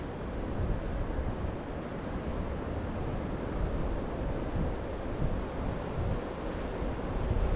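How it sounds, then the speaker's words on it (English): Pacific Ocean surf and wind at Coquille Point make a steady, dense rushing roar with gusty wind buffeting the microphone, no voices present. "Oh, there's the Pacific Ocean."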